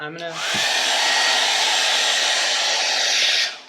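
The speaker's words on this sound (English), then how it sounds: "bring the hair dryer up and like put it in for the kill" A hair dryer switches on and blows with a loud, steady whoosh for a few seconds before cutting off, used to heat and remove an airbag sticker.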